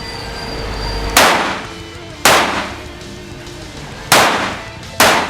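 Four sharp, loud shots from a Keltec P17 .22LR pistol, spaced irregularly about a second or two apart at close range, each decaying quickly with a brief echo.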